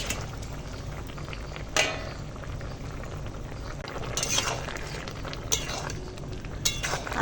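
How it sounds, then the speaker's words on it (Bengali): Pieces of fried katla fish going into a pot of boiling bottle-gourd-leaf curry: steady bubbling and simmering with a few sharp clinks and scrapes of a utensil against the pan, close by, no talking. "এখন দিয়ে দেব এই ভেজে রাখা মাছ"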